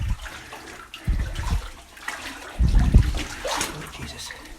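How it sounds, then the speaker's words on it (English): Water splashes and sloshes in uneven bursts as someone wades through shallow, ankle-deep water inside an old copper mine, close by and fairly loud. "Not too deep of water."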